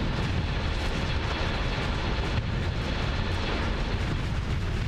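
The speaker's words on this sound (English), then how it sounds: "Come on, Rukuos, use more torpedoes." Torpedo explosions in the space combat game Starsector: a continuous, dense roar of blasts and rumbling impacts, loud and sustained throughout with no pauses.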